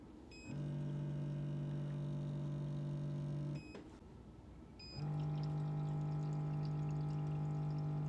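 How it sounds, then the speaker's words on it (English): Steady mechanical hum of a baby bottle washer's tank filling with water, a low drone that pauses briefly then resumes louder, with faint beeps at the start. "That's just the sound of the tank filling."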